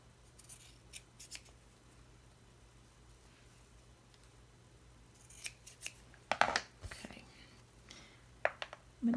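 Scissors snip through excess frayed fabric in a few quiet, close cuts, with soft rustling and faint whispery handling between them.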